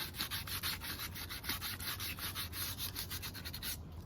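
Car rims are scuffed by hand before painting, a close, steady back-and-forth rubbing with a quick rhythmic pattern of strokes and no voices.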